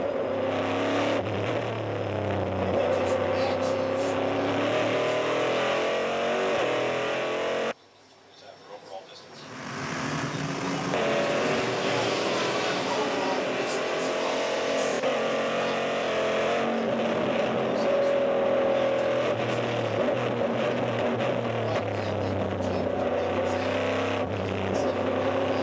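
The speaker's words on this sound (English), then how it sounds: "He just kind of matches the amount of throttle with the speed of the car." On board the diesel Audi R10 race car at the 2006 Le Mans 24 Hours, the engine drones loudly under steady throttle. It briefly drops out, then builds back to a sustained roar with a commentator talking over it.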